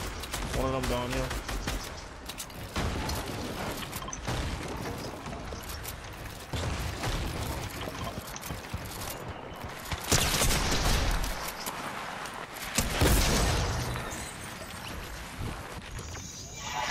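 Gunfire in the video game Fortnite, scattered shots and bursts that come and go under steady talk from players, with other game noises mixed in.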